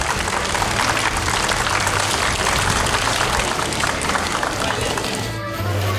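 Steady, dense applause from a crowd at an exhibition and fair in Palamuse fills the whole stretch, sustained and even in loudness before tapering slightly near the end.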